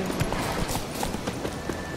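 Hooves of Roach, Geralt's horse in The Witcher 3, clip-clop in a steady galloping rhythm with repeated sharp thuds, moderately loud and fairly close, with a faint voice beneath.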